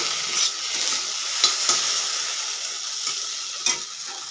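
Okra frying in a pan for an Odia home recipe, a soft continuous sizzle with a few light stirring clicks and scrapes scattered across a few seconds.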